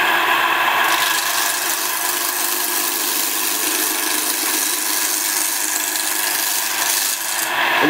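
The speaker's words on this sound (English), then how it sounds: "This is just a carpenter's wood chisel, but it's nice and straight and flat and sharp, so I'm just going to clean off all the corners." A sharp carpenter's wood chisel cuts a wooden chess-piece blank spinning on a lathe, squaring off the corners, producing a steady, continuous scraping rasp over a constant motor drone, close and fairly loud, with no talking.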